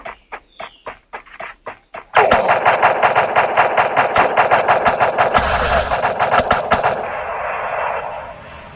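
Rapid, sustained automatic gunfire bursts loud and close for several seconds after a short run of separate shots, then trailing off into a lingering echo.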